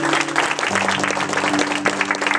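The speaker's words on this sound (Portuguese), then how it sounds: "E somente aqueles que concordam, aplaudam ao Senhor." Congregation applauding during an evening church service, a dense sustained wash of clapping with steady tonal hum from organ or sound system beneath, no voices clear.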